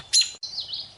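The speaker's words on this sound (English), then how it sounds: "there's a bird fight" Birds in a garden break into a squabble: a sharp burst of high chirps, a brief pause, then a sustained wavering twitter, close and fairly loud over a quiet background.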